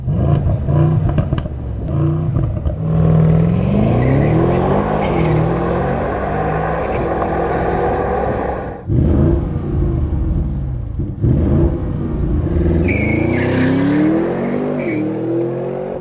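A performance SUV engine, an Audi RS Q8 or Mercedes-AMG GLE 63 S, revs hard, rising and falling in pitch through several surges, loud and close with a deep throaty roar.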